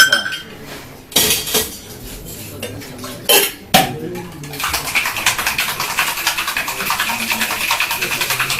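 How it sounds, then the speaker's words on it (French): A metal cocktail shaker holding a single ice cube and egg white clinks a few times, then gets a vigorous dry shake, a fast continuous rattling slosh close by. "On va effectuer un dry shake pour émulsionner le blanc"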